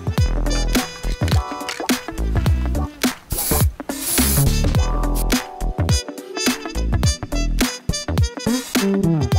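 A spray can coats a 3D printed lamp in its final colour, with repeated short hissing bursts of varying length and brief pauses between them, loud and close, no talking.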